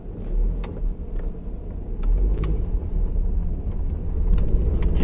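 A Wuling Almaz Smart Enjoy with a CVT automatic transmission pulls away in first gear, heard from inside the cabin as a steady low engine and road rumble that builds slightly, with occasional small clicks.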